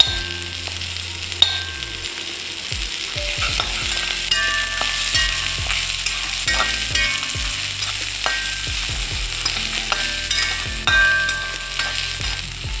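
Onions fry in a pan with a constant sizzle, while a utensil scrapes and stirs at irregular intervals; no one speaks.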